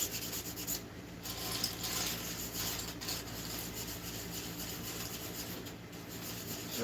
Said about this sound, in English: What we got here is a 320, I believe, sandpaper, super fine grit.